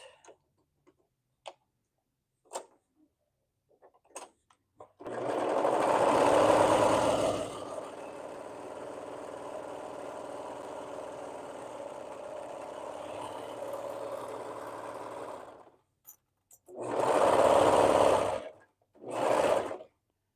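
A sewing machine basts gathered swimsuit fabric in one long, fairly loud, even whirring run of about ten seconds, followed by two shorter bursts, close by with no voices.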